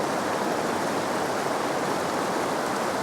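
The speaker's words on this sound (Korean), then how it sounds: "개울 발견했고 세안 좀 하고 오겠습니다." A clear mountain stream, likely glacial meltwater, in the Altai Republic flows in a steady, close rushing wash of water, unbroken and alone for the whole stretch.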